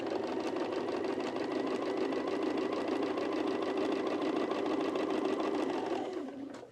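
A home sewing machine stitches a curved garment seam in one continuous, steady mechanical whir with rapid needle clatter, close and even, slowing to a stop at the very end.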